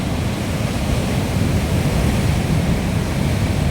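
Large sea waves break on the beach at Edava near Varkala, a loud, close, continuous roar of surf with wind rushing over the microphone and no pauses.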